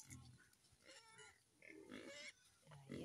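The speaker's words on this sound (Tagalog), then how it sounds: "Yan, yung ating mga baboy." Pigs grunt and oink in a small pig pen, several snorting grunts close by, mixed with nearby background noise.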